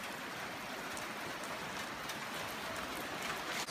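Steady rain falls outside as a continuous even hiss with faint scattered drip ticks. It sounds moderately close, with no voices.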